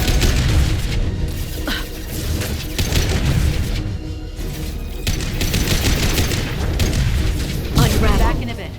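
Heavy gunfire and explosions in Mass Effect 2 on PC: dense rattling bursts and deep booms form a loud, continuous battle din, with voices calling out amid the fighting.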